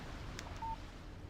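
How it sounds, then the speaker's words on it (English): Phone text message alert in the Alan Wake video game: a single brief, thin electronic tone over a quiet, low background hum. "Text message from Barry"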